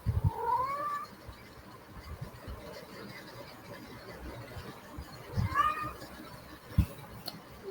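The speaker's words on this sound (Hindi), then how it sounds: "ये मेरी बिल्ली है" A cat meows twice, the two drawn-out calls several seconds apart, fairly close against a quiet background.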